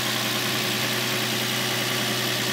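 A 2006 Infiniti G35 with a 3.5-liter V6 idles just after a cold start on a chilly day, a steady close-up engine hum with a low drone and no breaks.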